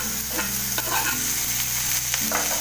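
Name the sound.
coriander and tomato stirred into frying onions in a pan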